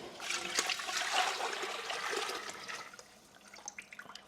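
Beef bone broth pours from a pot into another pot in a continuous liquid rush that tapers off into a thin trickle and a few drips, close and moderately quiet.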